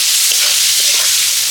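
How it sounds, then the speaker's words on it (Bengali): Chopped onions fry in leftover fish oil, giving a loud, continuous hiss and crackle of hot oil with a few soft stirring knocks in the pan. "তো পেঁয়াজটাকে এখন ভালো করে ভেজে নেব"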